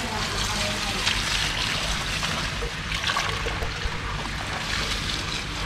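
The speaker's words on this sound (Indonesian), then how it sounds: "kita siram-siram nih monsteranya" Water poured over a freshly repotted monstera in a backyard garden, a steady broadband trickle and splash soaking the potting medium, continuous and close, with people talking over it.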